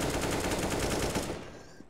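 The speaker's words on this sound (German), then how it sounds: "Ich höre nur Schüsse, aber ich sehe kein Sterben." Rapid gunfire in Counter-Strike: Global Offensive, a loud continuous volley of shots that cuts off and fades out near the end.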